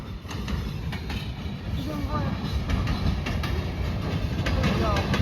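A CN freight train hauling tank cars and coil cars rolls past in Marinette, Wisconsin, a continuous low rumble with rhythmic wheel clatter, steady and fairly close.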